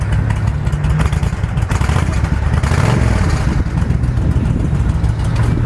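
A Suzuki Intruder 1500 motorcycle idles loud and close with a steady, throbbing low rumble and a faint mechanical clatter, settling to a low idle with no voices over it.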